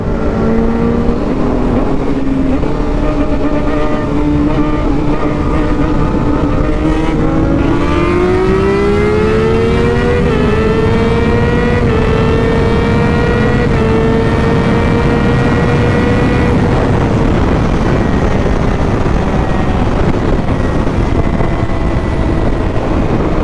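A loud engine revs and accelerates close by, its pitch climbing through gears and dropping with shifts over about twenty seconds of continuous roaring drone while racing another car.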